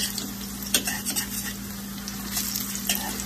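Plantain slices fry in a pan for Jamaican fried plantain and dumplings, giving a steady close sizzle with a low hum underneath and a few soft clinks of a utensil.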